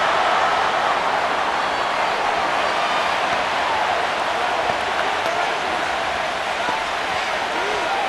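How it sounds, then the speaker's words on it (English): Stadium crowd in the Madden NFL 25 football video game, a Rams versus Seahawks simulation on PS5, roaring in a steady, loud wash of cheering with no breaks throughout. "This crowd into it now as we get to 3rd down."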